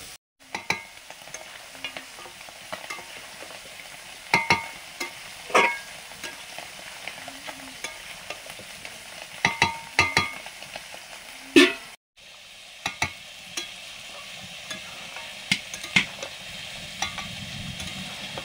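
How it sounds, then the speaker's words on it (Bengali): Meat slowly sautéing in a pot for a light Bengali mangsher jhol hisses steadily, punctuated by irregular clinks and scrapes of a stirring spoon, with a brief dropout midway. "ধীরে ধীরে কষানো চলছে"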